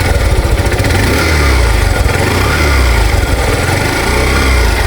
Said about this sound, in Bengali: এখন সাইলেন্সারের সাউন্ডটা শোনেন।